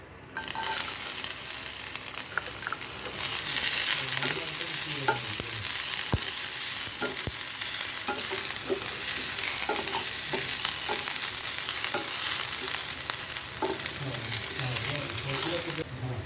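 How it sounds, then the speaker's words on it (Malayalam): Chopped ginger and garlic fry in coconut oil for a Kerala-style squid roast, a loud continuous sizzle broken by scattered spatula taps and stirring scrapes, close up and without speech. "അതിലേക്ക് നമ്മൾ ചേർക്കാൻ പോണത് ഇഞ്ചിയും വെളുത്തുള്ളിയും ചെറുതായിട്ട് ചോപ്പ് ചെയ്താണ്."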